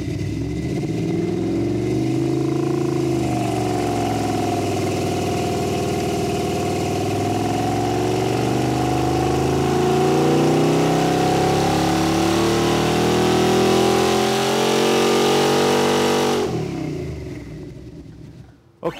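A small-block V8 engine runs on a dyno with a loud, sustained roar that rises in pitch through a pull, then cuts off abruptly near the end.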